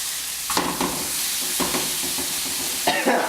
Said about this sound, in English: now we will start with the frying of the steaks right now